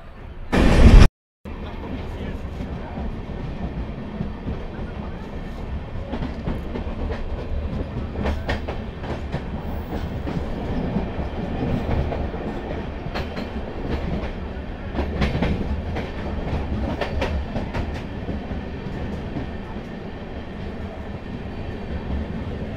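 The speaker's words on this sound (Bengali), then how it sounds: "একদম নির্ধারিত সময়ে আমাদের ব্ল্যাক ডায়মন্ড এক্সপ্রেস ছেড়ে বেরিয়ে গেল ধানবাদ স্টেশনের 1 নম্বর প্ল্যাটফর্ম।" Black Diamond Express, a newly LHB-coached train out of Dhanbad, running at high speed with a loud continuous roar and rumble and rhythmic clickety-clack of wheels on the rails, heard from inside the coach after a brief burst at the start.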